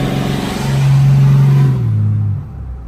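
A 4G Cummins diesel truck engine with a new tune revs hard under a full pull, a loud close-up drone that climbs, holds steady, then drops off quickly near the end.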